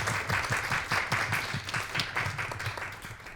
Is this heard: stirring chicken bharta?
no